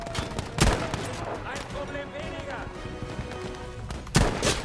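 Gunfire in the Battlefield V shooter game, with two loud broadband shots standing out near the start and end over a steady bed of mixed battle noise and a voice talking.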